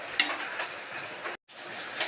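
Rice stirred in boiling water in a pot: a soft, continuous bubbling hiss with a couple of light clinks from the spoon and a brief gap near the end, close but quiet, no voices.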